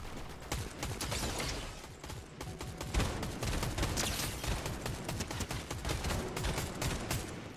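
Video game gunfire, dense rapid shots and clattering impacts in a continuous busy barrage at close range.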